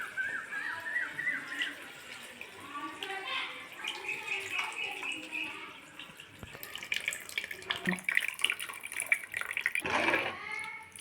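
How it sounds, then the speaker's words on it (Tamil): Tamarind water pours and splashes into a pot of fish curry in a running stream that stops and restarts, with a louder gush near the end. "இப்போ புளியை கரைச்சி ஊற்றிடலாம்."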